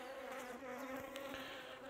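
Bees buzz inside an opened beehive in a steady, faint drone with no voices.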